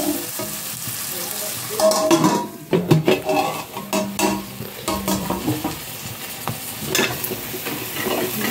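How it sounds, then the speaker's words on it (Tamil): Ginger-garlic paste and ground masala paste frying in hot oil for a South Indian eggplant curry, a steady sizzle broken by loud scraping and clattering of a spoon stirring against the pan. "ராஸ்மெல் போகிற வரைக்கும் நல்லா பொரிய விட்டுலாம்"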